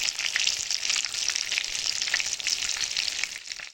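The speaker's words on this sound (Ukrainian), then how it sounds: "Все смажиться." Steady, crackling sizzle of battered anchovies frying in a pan, continuous and fairly soft, with no voices.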